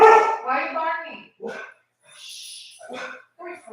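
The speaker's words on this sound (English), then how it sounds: "Why are you barking?" A pet dog barks and yips indoors in several short, loud bursts close by, broken by brief pauses.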